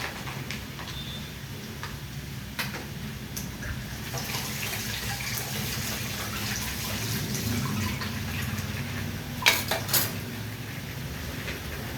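Black beans washed under running tap water in a kitchen sink, a soft steady stream of water with occasional light clinks and a few brief splashes near the end.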